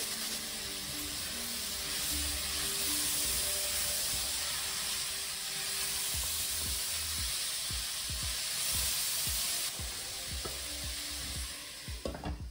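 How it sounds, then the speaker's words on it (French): Mushrooms frying in a pan while making a skate wing fricassée, a loud continuous sizzle with steam hiss and a run of soft stirring taps and knocks toward the end, no voices. "À présent, on va ajouter nos champignons."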